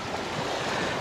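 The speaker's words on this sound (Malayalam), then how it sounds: "തിരമാലകൾ ഒഴുകി വരുന്നത് കണ്ടോ?" Waves lapping on the shore of the Idukki dam reservoir, a continuous close wash of water with wind buffeting throughout.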